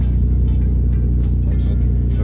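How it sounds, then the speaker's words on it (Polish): Engine of a Volkswagen Passat B5 running on LPG whines steadily as the revs fall, a continuous close drone with strong low harmonics and no speech over it. "Passat trochę wyje, jak się schodzi z obrotów."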